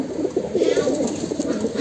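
A male silver-pattern pigeon coos in a low, rolling, continuous stream, close and fairly loud, under a faint steady background hiss.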